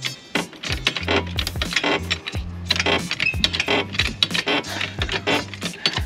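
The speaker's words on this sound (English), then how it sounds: "As that ball joint starts to move, listen to the noise." A worn ball joint on an old Mercedes SL creaks and squeaks as the suspension moves, giving repeated rhythmic groaning squeals with clicks and knocks between them, close and fairly loud.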